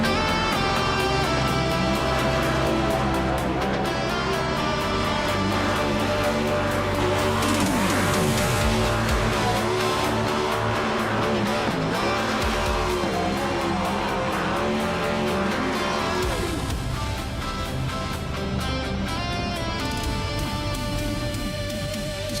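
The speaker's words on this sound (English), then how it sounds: "And he will get to do the burnouts here on the front stretch." A race car in a racing video game doing a burnout on the front stretch at Nashville Superspeedway: a loud, continuous engine roar with squealing, skidding tires, sustained and dense throughout.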